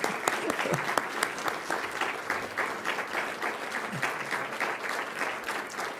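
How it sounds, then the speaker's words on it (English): Outdoor audience applause for the mayor at a South Salt Lake State of the City event on a porch, a steady wash of clapping hands that holds for the whole stretch without breaks. "let's have a round of applause for the Mayor"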